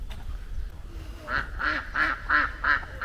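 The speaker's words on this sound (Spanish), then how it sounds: "Patos." Ducks quack in a run of five evenly spaced, fairly loud calls at a countryside hacienda in Mexico, heard against a faint background with no talk during the calls.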